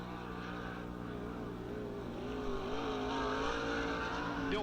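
Sprint car on a qualifying time-trial lap at Lernerville Speedway, a distant, continuous engine roar that rises and falls in pitch as the car works around the track.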